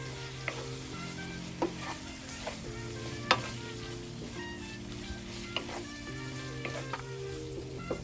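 Menudo cooking in a pan, a steady close sizzle of frying with a spoon scraping and clinking against the pan in irregular strokes, and no one talking.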